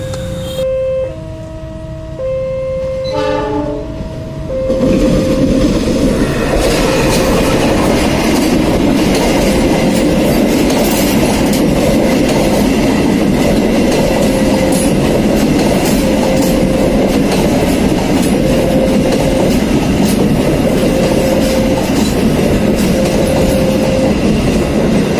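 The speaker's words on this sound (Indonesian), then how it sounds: "kereta api Gajah Yana bersama masuk stasiun Kediri di jalur 1" Gajah Yana passenger train pulling into Kediri station on track 1, with a few horn notes at the start, then a loud, steady rumble and rhythmic clatter of wheels on rails that continues throughout.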